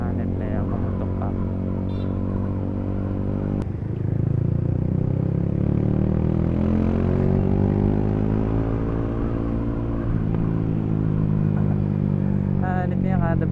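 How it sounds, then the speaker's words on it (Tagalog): Motorcycle engine at a JCP Racing shop, revving with a steady rough exhaust drone that swells and falls, a sharp crack near the start, while people talk nearby. "kada bitaw ng silinyador na mumutok"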